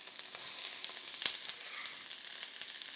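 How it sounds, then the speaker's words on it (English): A big pile of onions frying in olive oil in a pan for caramelizing, giving a steady, soft, close sizzle with faint crackles and one small click. "All right, now we got this big pile of onion. Let's get it in there."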